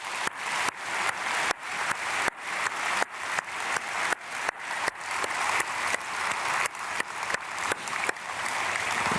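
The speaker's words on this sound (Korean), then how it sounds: "우리 크게 박수로 축복하겠습니다." A church congregation applauds at an early-morning prayer service, with steady, dense clapping that holds at an even level for several seconds from start to finish.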